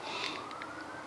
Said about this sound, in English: That siren is driving me nuts.